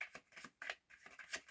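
Tarot cards are shuffled close by in quick, soft riffling bursts that repeat several times, faint and with no voices.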